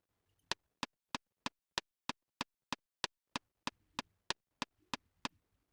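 A software metronome in a music workstation ticks briskly at 190 beats per minute, about sixteen sharp, evenly spaced clicks, close and isolated against near silence.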